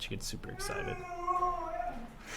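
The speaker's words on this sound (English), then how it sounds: "Sorry guys, you might hear my dog in the background." A pet dog whines and yelps in harmonic, rising and falling cries beside someone speaking, with a video game playing in the room.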